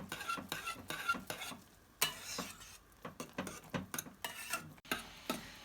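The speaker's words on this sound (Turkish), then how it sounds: "tarhanamızı son kez şöyle karıştıralım" Spoon stirs a thick pekmez tarhana mixture in a pan with repeated close scraping strokes and soft clacks against the metal, uneven in rhythm, with no voices.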